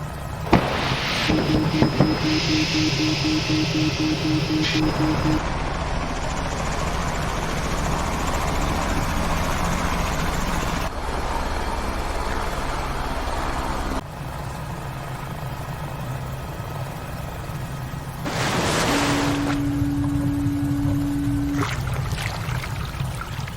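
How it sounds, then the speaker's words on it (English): A helicopter suffering engine failure ditches into the icy East River, its engine and rotor roar filling a long, noisy phone recording, broken by a few steady electronic tones and shifts in level. "Bystanders recorded video footage on their phones of the moment the helicopter ditched into the East River."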